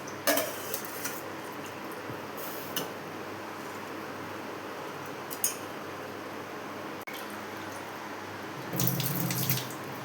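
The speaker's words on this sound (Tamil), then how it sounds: "அதுக்கு தகுந்த மாதிரி நீங்கள் தண்ணி ஊற்றிக்கணும்" Water pours steadily into a cooking pot for simple biryani rice, a continuous close splashing rush with a few faint clinks of pans.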